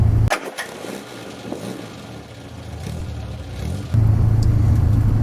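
A 1968 Morris Minor classic car engine hums while driving on a short trip, with a clunk near the start and a steady mid-level drone that rises louder toward the end.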